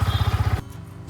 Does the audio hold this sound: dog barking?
no